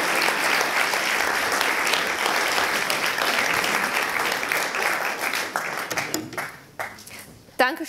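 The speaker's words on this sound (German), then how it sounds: "Großer Applaus" An audience at a university poetry slam applauds, a dense sustained roar of many hands clapping that thins out and fades into scattered claps near the end.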